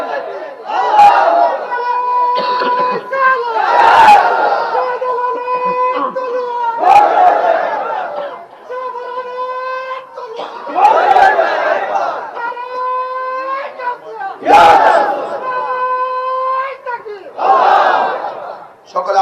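Crowd at a Bangla religious sermon gathering chanting slogans in unison: repeated loud massed shouts in a call-and-response rhythm, each burst answering a leader's call, roughly every two to three seconds.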